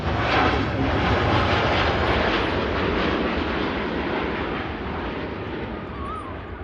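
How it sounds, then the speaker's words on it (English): A Gulf Air Dreamliner airliner rolling down the runway on takeoff at Manchester Airport, a loud, sustained broadband jet roar with deep rumble, steady and slowly fading slightly as it moves away. "Gulf Air Dreamliner now on the roll."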